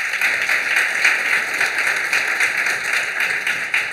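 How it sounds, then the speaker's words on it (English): Audience applause at a piano recital, a steady wash of many hands clapping close by with no pauses. "thank you for applauding her again."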